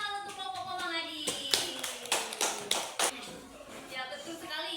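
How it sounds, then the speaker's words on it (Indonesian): A classroom of students clapping for a student group, a short burst of irregular hand claps from several children near by, with a voice talking over the start. "Tepuk tangan untuk kelompok Komang Adi."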